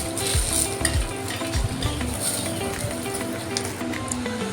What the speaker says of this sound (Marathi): त्याच्यामध्ये आता वाटलेलं मिश्रण टाकूया आणि हा मसाला आता चांगला मस्त असा तेल सुटेपर्यंत परतून घेऊया